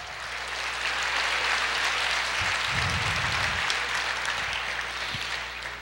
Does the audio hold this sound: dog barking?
no